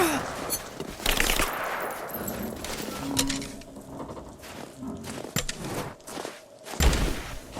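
Gunfire in the video game Rise of the Tomb Raider comes as rapid bursts and scattered shots over a busy battle mix with thuds and movement, moderately loud throughout.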